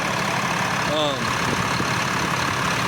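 A 6.7-liter diesel pickup truck engine idles with a steady, dense rumble that carries on throughout, while a voice briefly cuts in over it.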